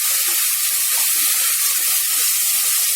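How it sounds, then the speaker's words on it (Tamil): Tomatoes sautéing in a pan give a constant, even sizzling hiss at close range, with no talking. "தக்காளி சேர்த்து நல்லா வதக்கலாம்."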